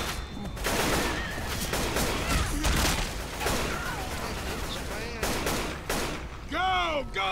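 Gunfire from the video game Left 4 Dead 2 on a modded map, with a burst of shots over busy game noise, followed near the end by rising whistling tones, while people talk throughout.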